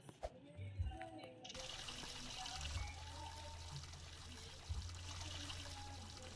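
Tap water runs steadily for face washing, a soft continuous trickle and splash, with brief gaps and bumps as hands move through the stream.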